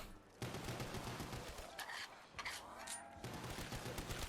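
Pistol gunfire in a Call of Duty Zombies video game comes as dense bursts of rapid shots, broken by brief pauses, fairly quiet overall, with no talking.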